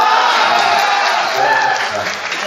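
Audience at a Hindi shayari poetry recital breaks into sustained clapping and crowd noise, a steady dense wash of applause lasting the whole stretch, fairly loud, with some faint voices mixed in.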